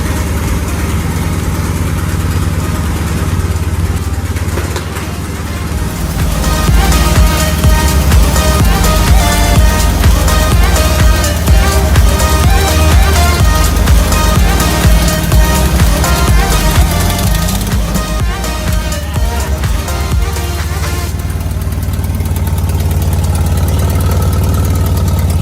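Home-built rat rod with a turbo setup and custom exhaust starting up, then running with a loud, lumpy, rapid idle that drops back to a steadier rumble, recorded close.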